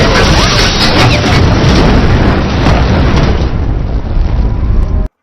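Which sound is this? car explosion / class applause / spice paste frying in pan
car explosion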